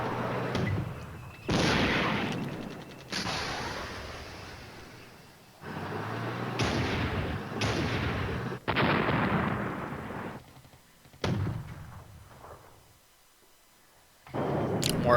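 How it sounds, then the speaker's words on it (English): Artillery in the Cold War strategy game Flashpoint Germany Reforged fires in a series of loud booming blasts, each with a long rumbling decay, coming several times in irregular succession before dropping to near silence. "More artillery being fired."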